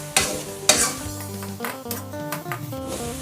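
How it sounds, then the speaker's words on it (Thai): Minced pork stir-cooked in a pan with salt, close scraping and stirring strokes over a light sizzle, with irregular clatters of the utensil against the pan across a few seconds. "แล้วก็นำหมูบดลงไปลวกค่ะ ลวนหมูให้สุกเลยนะคะ"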